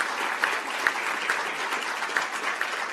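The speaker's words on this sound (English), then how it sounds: "So let's give a round of applause to the organization." A round of applause from the audience at a citizen diplomacy award ceremony, dense steady clapping with a few sharper claps standing out, filling the room throughout.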